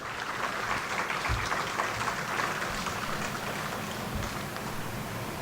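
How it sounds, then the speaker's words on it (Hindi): A large audience at a community foundation event in Jodhpur breaking into applause, a steady, dense roar of clapping that holds evenly throughout and sounds rain-like, with no talk. "आप ज़ोरदार तालियों का चेक आप दे सकते हैं।"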